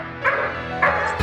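Two short dog barks, loud and close, spaced about half a second apart, with a brief sharper yip at the end; no one talks.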